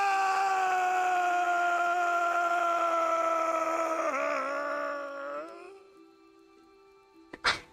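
A long, sustained scream from the Pillars of Eternity video game holds steady for several seconds, wavers, then fades out, followed by a couple of sharp, short sounds at the end.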